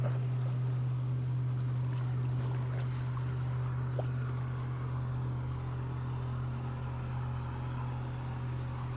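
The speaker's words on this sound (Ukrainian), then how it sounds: "Літають водні мотоцикли, моторні човни хулігенять на водному скутері." A constant low engine drone from jet skis and motorboats on a lake, steady and unbroken, with faint splashing and wind around it.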